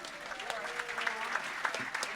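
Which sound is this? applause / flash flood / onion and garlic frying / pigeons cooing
applause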